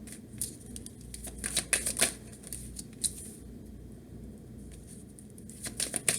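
Tarot cards being handled and laid out on a table: quick bursts of papery shuffling, flicking and slapping of cards with short pauses between, close and fairly quiet, no voices.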